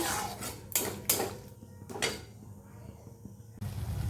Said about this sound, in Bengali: এবার ঢাকা দিয়ে দেবো একটা।